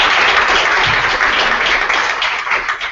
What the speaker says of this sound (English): give a big round of applause for our speaker